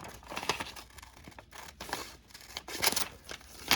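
Scissors cutting along the edge of a glossy magazine page, with a series of close, crisp snipping and slicing strokes in an uneven rhythm, paper rustling between cuts and no talking.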